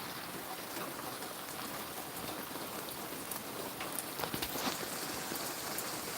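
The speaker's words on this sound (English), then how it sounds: "Stop raining." Rain falls steadily outdoors onto a road and nearby surfaces, making a close, continuous hiss broken by scattered louder drops and spatters, with no talking.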